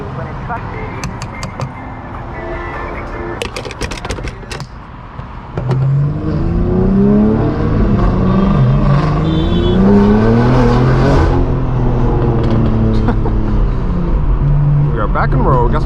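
A straight-piped BMW M4 G82 roars through hard acceleration, its loud exhaust climbing in rising sweeps through the gears after a quieter stretch of clicks and rumble at the start.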